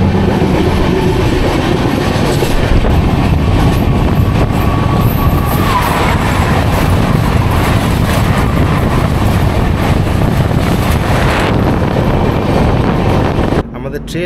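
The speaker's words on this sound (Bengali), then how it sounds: "ট্রেন ছেড়ে দিল বালাসোর স্টেশন।" Howrah–Puri Superfast Express (12837) running at speed after departing Balasore station, a loud continuous roar of wheels and carriage rumble with wind noise, steady throughout with brief clatter toward the end.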